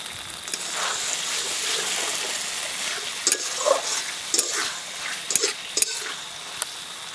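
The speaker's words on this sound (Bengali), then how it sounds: "এবার ভেজে রাখা আলুটা দিয়ে দিচ্ছি।" Fried potatoes added to a sizzling spice paste in oil for a red lentil kofta curry, then stirred, giving a steady sizzle broken by scraping and clinking stirring strokes up close.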